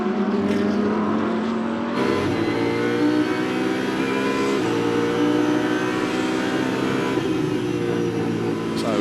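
Onboard engine of a GT race car at Oschersleben in the ADAC GT Masters, a loud, close, harmonic drone that steps up sharply in pitch after a gearshift, then holds and rises steadily under full throttle.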